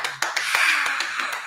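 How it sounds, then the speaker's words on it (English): An audience claps for intern Denise Ringo, a dense patter of hand claps rising sharply and holding steady through the short burst, with no voices over it. "Y'all clap for Denise."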